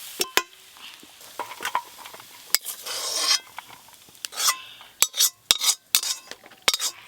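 Raw jackfruit frying in hot oil, with a soft sizzle under repeated sharp clinks and scrapes of a metal spoon stirring in the pan, then a louder scraping as the pieces are poured out.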